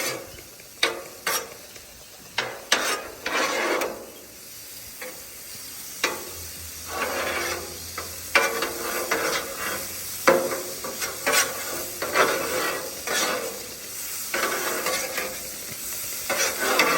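An egg fries on a griddle with a soft, steady sizzle while a spatula scrapes and taps repeatedly, flipping it amid irregular clatter close by.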